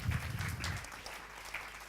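Applause from a business-event audience welcoming a speaker to the stage, a fairly dense burst of clapping at the start that thins out and quiets over two seconds.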